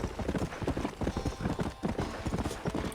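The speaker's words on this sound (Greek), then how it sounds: "Έχουμε 2 αλογάκια από ό,τι φαίνεται." Horse hooves clip-clop in the video game Red Dead Redemption, with two horses moving in a quick, close, rhythmic patter of thuds that continues throughout with no voices.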